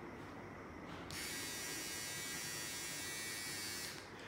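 A Philips OneBlade electric trimmer buzzes steadily at close range, switching on after a second and running for about three seconds before cutting off.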